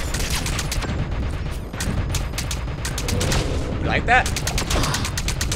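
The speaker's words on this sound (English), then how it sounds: "Yeah, I have my own machine gun." Sustained rapid machine gun fire in Metal Gear Solid V, loud and close with dense bursts of shots rolling on almost without pause, while someone talks briefly over it.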